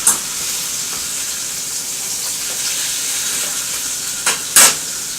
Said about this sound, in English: just kind of let it sizzle a little bit more